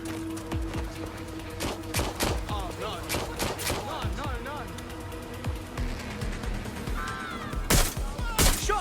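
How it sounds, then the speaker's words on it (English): Gunfire in the video game Watch Dogs Legion: repeated sharp shots and short bursts ring out over a steady game soundscape, with a loud flurry near the end and in-game voices talking throughout. "Shots fired!"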